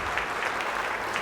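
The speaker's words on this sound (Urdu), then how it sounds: "تالیاں ہونی چاہیے پارٹیسپینٹ بی کے لیے" Brief burst of audience applause for a participant at a quiz competition grand finale, dense steady clapping from a crowd.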